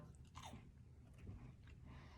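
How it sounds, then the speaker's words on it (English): Someone bites and chews a classic coconut macaroon with a crunchy outside, faint close-up crunching and soft mouth sounds in a quiet room. "But as I'm chewing it,"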